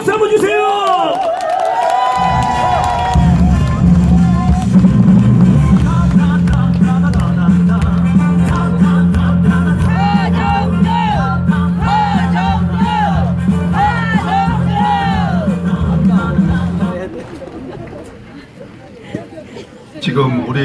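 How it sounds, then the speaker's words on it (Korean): Election rally crowd cheering and clapping for a Democratic Party candidate in South Korea, loud sustained whoops and applause over a droning hum, with an amplified voice talking over it before it fades near the end. "여러분 함성과 박수 한번 주세요"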